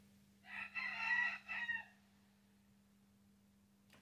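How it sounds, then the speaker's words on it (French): Roosters crow outdoors on a sunny day, one long call broken into several pulses that sounds moderately distant, followed by quiet with a steady low electrical hum underneath. "les coqs, je suis désolée, ils sont partis pour chanter comme des fous parce qu'il fait beau"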